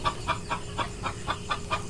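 Chickens cluck in a Thai mixed-breed poultry pen, a steady series of about eight short clucks at even intervals, close and moderately loud over low farmyard background noise.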